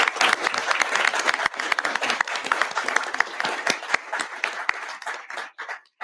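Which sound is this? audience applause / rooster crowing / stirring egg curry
audience applause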